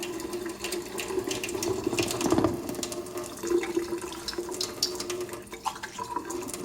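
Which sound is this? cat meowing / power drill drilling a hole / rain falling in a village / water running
water running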